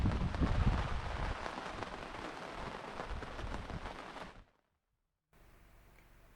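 Steady rain patters on a sailboat anchored in the North Channel, a dense, even hiss that holds for about four seconds before cutting off, then a faint quiet background.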